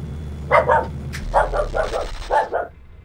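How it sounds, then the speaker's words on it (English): Dogs barking in the video game Grim Fandango, with a few separate bursts of barks and yips at moderate distance, over a low rumbling ambience. "Ladies and gentlemen, the dogs."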